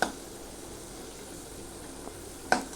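Onion and tomato masala sautéing in oil in a pan for veg pulao, a soft steady sizzle with two light clinks or stirs, close and quiet.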